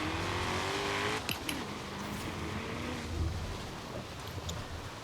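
Ford Mustang Shelby GT350R engine in the Forza Horizon 3 racing game, a faint continuous drone of driving with a few brief clicks and shifts, alone with no talk.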